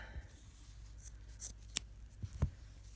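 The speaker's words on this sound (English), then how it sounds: "And then I can just cut that end off." Scissors snip off a loose yarn end on a crocheted ear protector, a few short, crisp metallic clicks of the blades close by against a quiet background.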